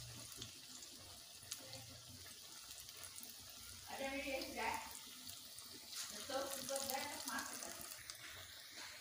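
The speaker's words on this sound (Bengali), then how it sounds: "আমার তেলটা গরম হয়ে গেছে, আমি এভাবে ছেপ দিয়ে ভেজে নেব।" Banana flower fritters frying in hot oil give a quiet, hissing sizzle that swells in two brief bursts over a faint background.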